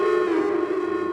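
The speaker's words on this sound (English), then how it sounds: "I just put on a guitar preset," A synth guitar preset plays a sustained lead note with delay and effects, a steady bright held tone with echoing shimmer, loud and alone.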